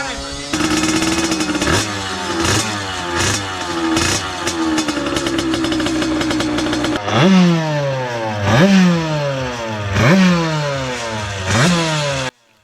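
A tuned moped with a 75cc cylinder, homemade cast cylinder, revs hard and repeatedly, each rise a buzzing two-stroke whine climbing and dropping in a steady rhythm, loud and close.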